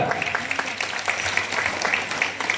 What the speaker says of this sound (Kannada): ಮುಗಿಸ್ರಿ ಅಂತ ಚಪ್ಪಾಳೆ ತಟ್ಟಾಕತ್ತೀರಿ